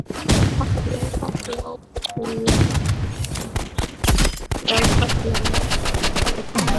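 Loud bursts of rapid automatic gunfire from a shooter video game, dense volleys with brief gaps, while a player talks now and then over the shooting.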